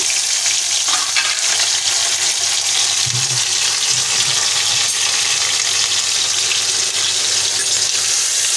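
Crabs coated in salt, ginger-garlic paste, turmeric and chili sizzle in hot oil, a dense, continuous close frying hiss with occasional soft knocks, no voices.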